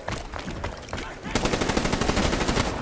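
Rapid gunfire aimed at zombies in a video game: a few spaced single shots, then a loud, fast automatic stream of evenly repeating bangs to the end.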